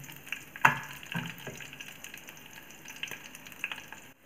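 Peanuts frying in oil with dried and green chilies for temple-style pulihora, a faint, soft sizzle broken by a few sharp clinks and scrapes of stirring, with no talk.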